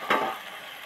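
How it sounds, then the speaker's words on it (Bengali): Pumpkin and potato pieces with prawns sizzling in a pan, a brief burst of frying hiss as they are stirred, then a softer steady crackle fading down. "ঢাকা দিয়ে 2-4 মিনিট নেড়ে চেড়ে ভাজতে থাকবো"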